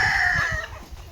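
Chickens on a poultry farm clucking close by, a quick series of short throaty clucks beneath a higher drawn-out crowing call that fades after half a second.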